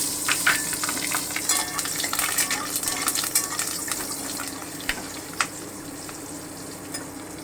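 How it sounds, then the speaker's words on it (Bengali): Black cumin seeds and green chilli crackling in oil left over from frying fish, a steady close sizzle with sharp pops and a few louder spits, no voices. "এবারে আমি মাছ ভাজার তেলেই কালো জিরে আর কাঁচা লঙ্কাটা দিয়ে দিলাম"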